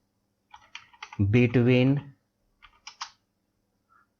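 Keys on a computer keyboard click in short bursts while data is entered in Microsoft Excel, with a brief spoken word between the taps and long quiet gaps.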